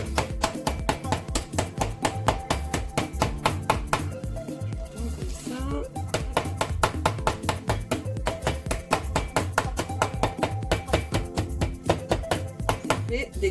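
Chocolate in a bag is crushed with a rolling pin, making a steady run of firm, close thuds and crunches that repeat about twice a second with a short pause partway through.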